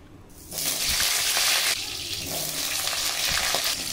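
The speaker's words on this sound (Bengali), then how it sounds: "ধুয়ে রাখা আলু ভেজে নেব।" Washed potatoes drop into very hot oil in a wok and erupt into a loud, dense hiss of frying that settles into a steady, slightly quieter sizzle with occasional faint knocks.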